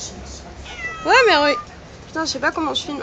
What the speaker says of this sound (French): C'est des chats.